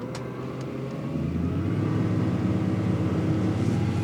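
The engines of a Campelli Tempest 1000 RIB accelerate at sea, building from a steady drone into a louder, sustained roar that holds at high revs.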